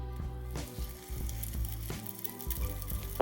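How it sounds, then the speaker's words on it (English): French toast sizzles and fries in a frying pan, a loud crackling, spattering hiss that runs continuously with small irregular pops throughout. "just get it in the frying pan and let it chill out and let it cook and brown nicely on one side."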